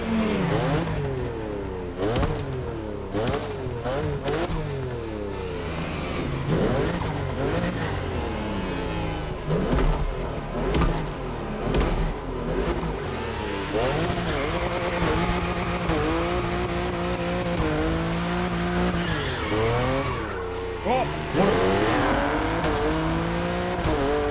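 A stock BMW M4 engine in the racing game The Crew Motorfest climbs and drops through gear shifts with sharp throttle blips and occasional tire squeals, loud and continuous.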